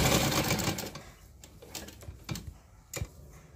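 A sewing machine stitches neck piping on a kurti in slow, short bursts, with a few sharp clicks and pauses between runs as the cloth is turned.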